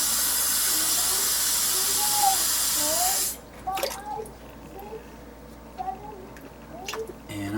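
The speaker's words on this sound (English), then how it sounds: "Fill that up with water." Water poured into a Step 1 rotary rock tumbler, a loud steady rushing pour for about three seconds that stops abruptly, followed by quieter wet shuffling and faint handling noises.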